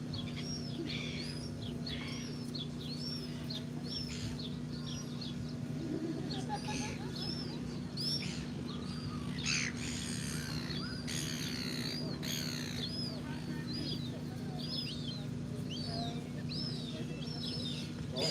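Gulls call repeatedly outdoors during an outdoor morning service, their cries recurring across the whole stretch over a steady low hum and background murmur, moderately near and fairly clear.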